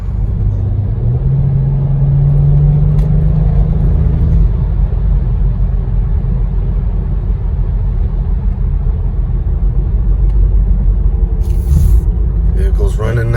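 A BMW car drives along, its engine and road noise forming a loud, steady rumble from inside the cabin, with a brief rising tone early on and a few clicks near the end.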